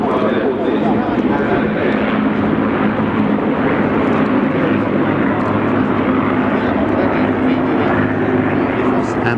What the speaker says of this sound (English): Historical aircraft first, led by the Navy's Swordfish and Firefly.